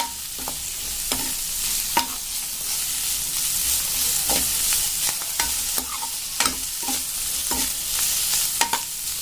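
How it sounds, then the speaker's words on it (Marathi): Sliced bitter gourd frying uncovered in a pan, a steady loud sizzle running throughout with repeated sharp clinks and scrapes of a spatula stirring the pieces. "आपल्याला इथं झाकून नाही ठेवायचं आहे छान असं फ्राय उडायचं आहे"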